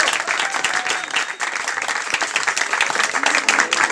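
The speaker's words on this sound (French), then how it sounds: "qu'on applaudit très fort. Bravo, félicitations." Audience applauding a newly graduated pastry chef at a local food event in Salazie, a dense, steady burst of clapping that fills the room, loud and close throughout.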